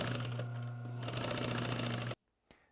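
A sewing machine runs steadily for about two seconds while hemming the bottom edge of a fabric slipcover for a wing chair, then stops abruptly, leaving near silence broken by one small click.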